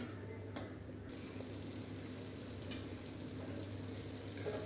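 Grated carrot halwa cooks in sugar water in a pan over a low flame, with a soft continuous sizzle and a few faint scrapes of stirring, quiet and close, with no talking.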